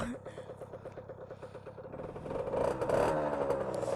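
A 50cc motorbike engine idles steadily, its even putter building slightly in loudness toward the end.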